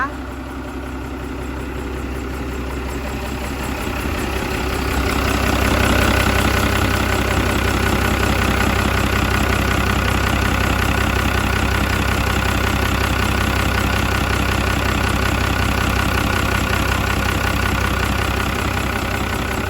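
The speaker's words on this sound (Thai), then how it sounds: "เป็นเครื่อง Isuzu 6สูบนะคะคันนี้" A TCM FD100 10-ton forklift with an Isuzu six-cylinder engine idles loudly and steadily nearby, a constant low diesel rumble with a slight rise in level partway through.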